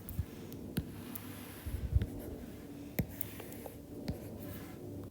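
Pen or marker scratching across a surface while a cubic graph is sketched, with steady faint scraping strokes and a few sharper taps, close and fairly quiet, no talking.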